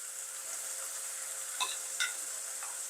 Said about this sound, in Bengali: আমি এবার ভাজার জন্য গোশতগুলো তুলে দিচ্ছি।